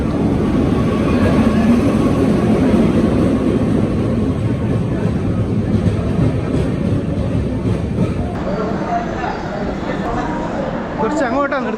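The Vivek Express pulls into a station platform, heard as a continuous loud rumble with clatter and voices from the platform, easing slightly near the end.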